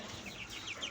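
Chickens and small roosters in a farm or market setting cluck softly and continuously, with scattered high calls over a steady background murmur for about a second.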